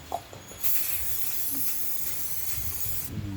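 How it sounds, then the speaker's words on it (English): A long, continuous spray of fly repellent onto cows hisses out loudly at close range for a few seconds, then cuts off, with a faint thump before it starts. "So maybe 1 or 2 sprays a day will keep the flies away"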